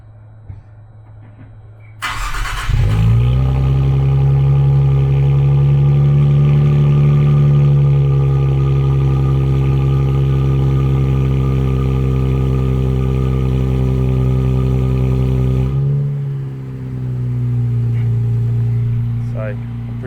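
A 2024 Nissan Z with an aftermarket axle-back exhaust cranks and fires up loudly, holding a deep, throaty rumble for over ten seconds before the volume suddenly drops to a quieter idle.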